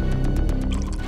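Water splashed onto the face of an unconscious, injured man lying on the ground, a quick series of wet drips and liquid slaps, close and fairly loud, ending with a few scattered droplets.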